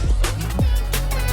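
A short electronic music phrase run through a fully wet pitch shifter that climbs from two octaves down back to normal pitch, heard alone and loud for just over a second.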